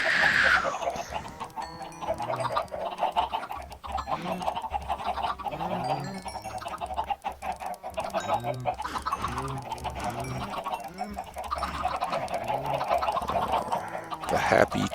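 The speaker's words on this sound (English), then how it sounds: "You're clucky, noisy little friends." A crowd of Minecraft chickens clucking steadily in a repeating, overlapping chorus, close and fairly loud, with a few chime-like tones now and then.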